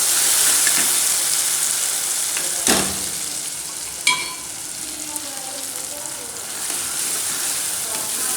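Lentils being stirred into a hot spice masala in a pan give a steady, close sizzle and frying hiss, with a couple of sharp spoon knocks against the pan.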